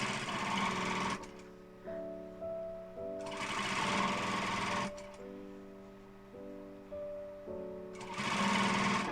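A sewing machine stitches a joey pouch in several separate bursts of rapid, steady whirring, close and fairly loud, with short pauses between runs.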